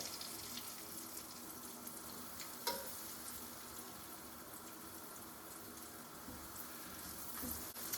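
Steady sizzling and crackling of thin pork schnitzels frying in butter in a hot pan, continuous and moderately quiet, with a faint clink partway through.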